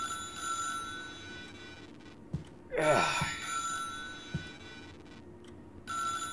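A telephone rings in the video game Bless This Mess, a repeating electronic bell tone heard in bursts before and after a loud vocal interjection, with game ambience underneath.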